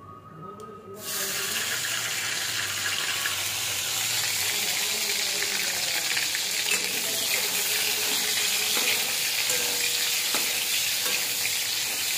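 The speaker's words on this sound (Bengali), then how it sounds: "মশলা কষানো হচ্ছে এখন।" Spices sizzle and crackle steadily in a hot frying pan for a raw banana fritter curry, close up, with occasional scraping as they are stirred.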